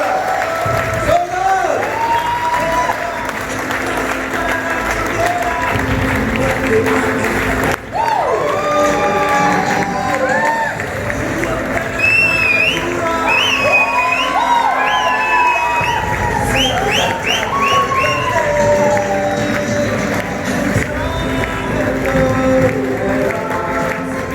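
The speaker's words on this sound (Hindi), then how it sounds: "एक बार जोरदार ताली चाहूंगा दोस्तों" A large crowd at a business presentation event in Nagpur applauds and cheers for a guest called to the stage, loud sustained clapping with whoops and shouts throughout.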